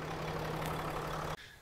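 A Dodge Cummins 6.7L diesel engine, fitted with a new Banks Monster-Ram intake, idles with a steady low hum and even rumble at close range, then cuts off abruptly near the end.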